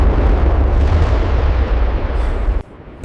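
A loud, sustained rumbling roar of missile attack explosions, dense and booming before cutting off abruptly into near quiet.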